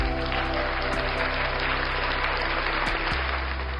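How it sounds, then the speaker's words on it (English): A steady, even round of applause plays with no breaks, sitting over a constant low hum. "Round of applause for those who made it to the video."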